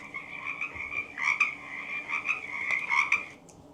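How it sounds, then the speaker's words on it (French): Frogs croaking in a steady chorus, with repeated bursts of calls rising and falling over several seconds, fairly close and moderately loud. "Ah, des grenouilles."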